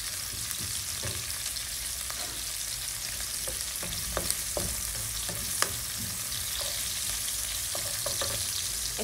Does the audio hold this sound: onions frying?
yes